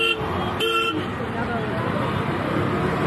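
Night road traffic in Delhi near Rashtrapati Bhavan, with two short car horn toots close by over a steady rumble of engines and road noise. People are talking in the background.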